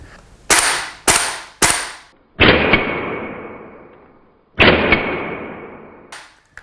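A Hephaestus Tavor TAR21 gas blowback airsoft rifle dry fires with no ammunition loaded: three sharp, close metallic clacks in quick succession, then two louder bolt slams with ringing gas-blowback decay, and a final brief click.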